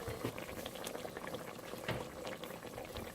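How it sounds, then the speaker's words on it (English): Blended onion, pepper and tomatoes go into a pot of Ghana okro soup, a soft bubbling, wet sloshing sound with faint liquid pops, close and fairly quiet. "At this time, we are going to add our blended onion, pepper, and then the tomatoes to the soup"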